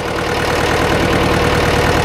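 A diesel tractor engine, revived after being seized and parked for years, idles loud and close with a steady, even chugging rhythm and a low knocking pulse throughout.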